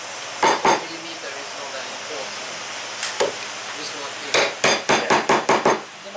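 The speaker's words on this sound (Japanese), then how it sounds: "instead of chiseling straight, you want to chisel diagonally" A chisel is struck with a hammer, driven diagonally into wood for Japanese joinery: two sharp knocks, a single blow, then a quick rhythmic run of six or seven close, crisp taps.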